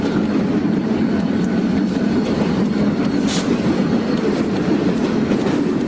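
A westbound freight train pushed by helper locomotives rolls past steadily on a mountain grade near Cascade Summit in 1996, with a continuous loud rumble and wheel clatter that stays close throughout.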